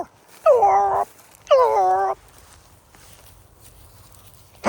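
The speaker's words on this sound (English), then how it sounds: "you heard those dogs up there" Hunting dogs out in the field give two loud, close bursts of high whining yelps about a second apart, then the clip falls to quiet outdoor ambience.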